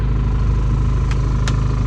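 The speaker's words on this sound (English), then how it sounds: "the engine's just warming up now" A sailing boat's engine idles with a steady low rumble, continuous, close and loud, with a couple of faint high clicks over the drone.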